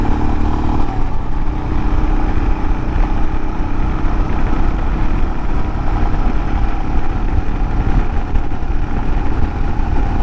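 A Royal Enfield Himalayan motorcycle ridden through twisty roads, its engine droning steadily and loudly throughout, mixed with heavy wind rush and no speech.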